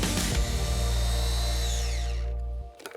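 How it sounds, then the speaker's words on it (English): An electric chopper finely minces herbs and other ingredients for herb butter, a loud close motor whir and rattle of blades for a couple of seconds before spinning down and stopping. "now the lid goes on and I'm going to finely chop all of these ingredients before we add our butter"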